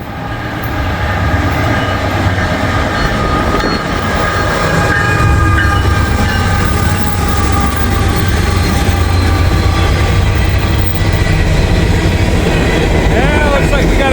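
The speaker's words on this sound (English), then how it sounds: "looks like we got a grain train, empty grain train, going back to get more grain" An empty Norfolk Southern grain train rolls past in high winds, its loud, steady rumble and wheel clatter filling the whole stretch without a break.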